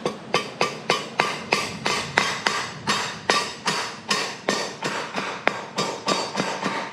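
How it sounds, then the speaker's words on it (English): Steady light hammer taps on a metal bracket of a JCPenney Bird minibike, around twenty quick even strikes in a row, close and sharp with no talking. "We get a little hammer, we're just gonna lightly tap it."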